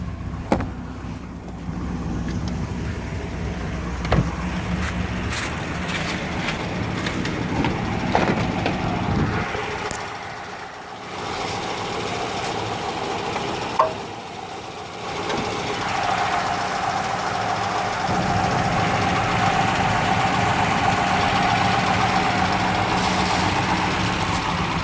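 A 1973 Rover P6 3500 with its V8 engine ticking over at idle, a steady low rumble running throughout with a few brief clicks and knocks, no talk.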